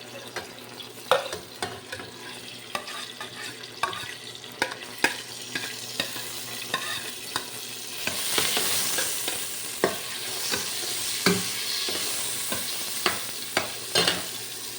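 Ginger sizzles steadily in hot oil while a utensil scrapes and taps the pan at irregular intervals. The frying hiss swells louder midway.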